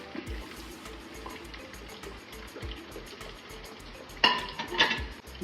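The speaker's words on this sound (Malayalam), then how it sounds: "നന്നായിട്ട് ഒന്ന് ഇളക്കുക" A spoon stirs hard-boiled eggs into a thick coconut-paste egg curry in a pot, with soft rhythmic scraping and knocks and a couple of sharper metallic clinks near the end. No one speaks.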